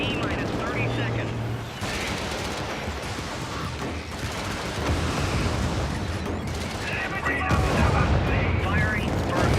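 An artillery barrage pounds a target area in a video game: continuous dense rumbling and booming impacts, loud and sustained, with heavier blasts near the end and a voice talking beneath the din.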